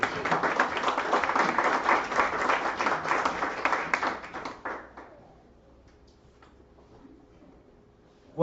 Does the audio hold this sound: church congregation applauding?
yes